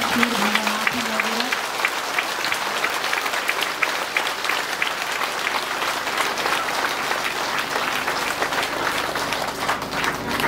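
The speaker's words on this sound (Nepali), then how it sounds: "आत्मादेखि नै एकदमै जोडले ताली बजाउनु।" A church congregation claps loudly and continuously in dense, sustained applause, with a brief voice or tone at the start before the clapping fills the room.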